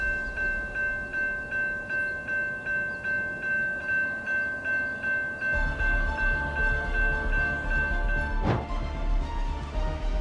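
An Amtrak train approaches at nearly 80 miles per hour through Sheridan, NY, a rhythmic pulsing rumble swelling into a louder roar, with a steady horn tone and a sharp burst near the end.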